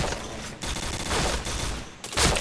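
Rapid gunfire bursts from a shooting video game, loud and dense, with brief gaps between volleys and a sharp final burst near the end.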